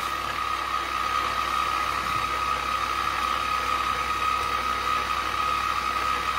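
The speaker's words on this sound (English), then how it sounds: "I'm going to show you cutting the last few gears now" A small milling machine cuts gear teeth, giving a steady, continuous mechanical drone with a sustained whine that holds unchanged throughout, close and moderately loud, with no speech.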